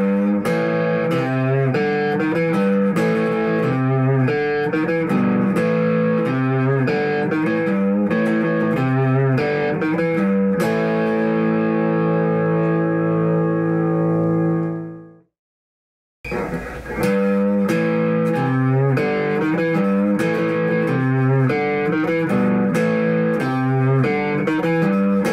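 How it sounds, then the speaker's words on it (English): Eastman SB59 electric guitar through an MXR modified overdrive pedal, with a gritty overdriven tone playing chords and riffs, ringing out before a brief silence, then resuming the crunchy playing. "I'm playing through an MXR modified overdrive pedal"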